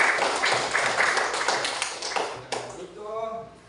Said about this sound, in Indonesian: Ya, tepuk tangan buat Mbak Nada.